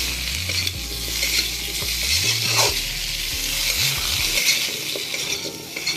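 Fish curry frying in a pan as cumin powder is stirred in, a constant loud sizzle with scraping and clinking of a utensil against the pan, no voices.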